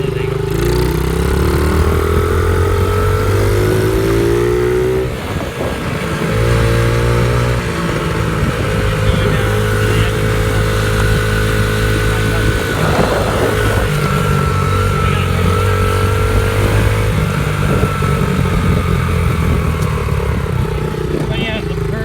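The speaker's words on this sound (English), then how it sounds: "It's an old Baja Motorsports 49cc. And I am too big for this dirt bike." An old Baja Motorsports 49cc dirt bike engine that sat for years runs steadily close by, a loud buzzing drone with shifting pitch and occasional revs, while people talk over it.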